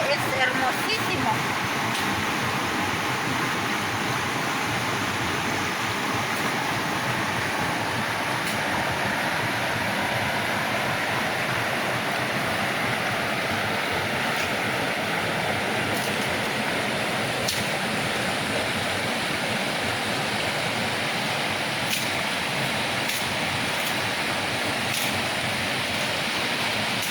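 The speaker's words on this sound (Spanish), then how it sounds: "Escuchar el sonido del río es hermosísimo." A river flows in a natural rural setting, its broad, steady rush filling the whole stretch evenly without pause.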